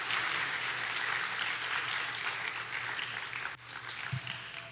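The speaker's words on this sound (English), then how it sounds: "Let's give them another round of applause." Audience applause at a high school world languages awards ceremony, a fairly quiet and even patter of clapping that dips briefly near the end before resuming.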